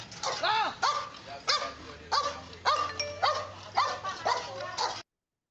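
A rabid dog gives a series of about eight hoarse barks mixed with whimpers, close and fairly loud, with a low steady hum underneath and no talking.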